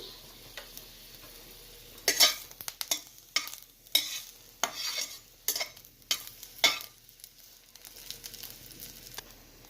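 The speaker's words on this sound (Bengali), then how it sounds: "এই তেলটার মধ্যে আমি একটা চেরা কাঁচা লঙ্কা দিচ্ছি" A slit green chili fries in hot oil in a pan, with quiet sizzling beneath repeated bursts of spatula stirring and scraping.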